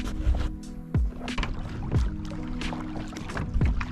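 Kayak paddle strokes on a lake from a Pelican Catch 100, rhythmic low splashes and drips roughly once a second, close by, with light wind, no talking.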